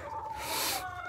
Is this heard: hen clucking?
yes